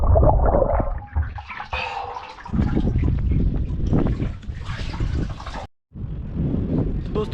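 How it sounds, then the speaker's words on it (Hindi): Someone plunges into a cold water tank outdoors, with bursts of splashing and churning water, broadband wind-like rushes, and one short pause in the middle before the watery noise resumes. "तो यहाँ पे मैं एक डुबकी मारूंगा"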